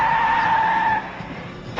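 A truck skids under hard braking on a dark road at about 45 to 50 mph, giving a steady, loud tire squeal that drops in pitch and fades slightly near the end.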